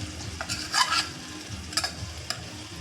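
Rice pulao with tomatoes being stirred in a pan, several scraping strokes of a spoon over soft frying sizzle, close and moderately loud.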